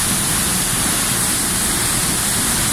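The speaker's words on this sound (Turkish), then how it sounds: "Şelale çok güzel bir doğal oluşumun içinden akıyor." A waterfall pours through a natural rock cave in a half-circle hollow, making a steady, loud, unbroken rushing roar with no pauses.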